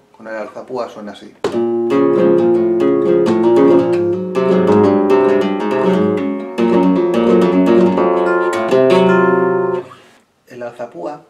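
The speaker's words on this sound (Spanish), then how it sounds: "Y esto con el alzapúa suena así." Flamenco guitar played with the alzapúa thumb technique, rapid thumb strokes sweeping down and back across the strings in a driving, percussive rhythm, close and loud, ringing alone for about eight seconds after a brief spoken introduction.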